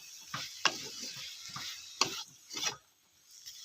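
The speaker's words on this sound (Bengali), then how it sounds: "এবার কিছুক্ষণ নাড়াচাড়া করব।" Fried onion, garlic and chili are stirred into greens in a pan, with several close scraping strokes and faint sizzle in an uneven rhythm and no talking.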